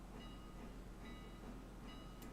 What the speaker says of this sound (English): We'll pick this train up and we will get rolling